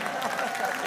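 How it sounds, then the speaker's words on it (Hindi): Audience applause at an outdoor Hindi poetry recital in Amgaon, a brief burst of crowd clapping with voices mixed in. "मैं ताली बजा दो यार एक बार जरा।"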